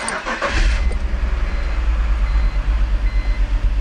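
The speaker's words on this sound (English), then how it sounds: "So now I'm going to start the car and see if I can catch this problem again." A BMW E46 3-Series engine with a misfire cranks and starts, followed by a loud, steady low rumble as it settles into running, close up with no talk.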